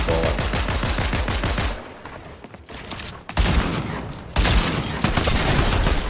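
Rapid rifle gunfire from Fortnite BedWars rattles out in dense, loud bursts. Short gaps separate the volleys, then the shooting resumes with heavy impact booms.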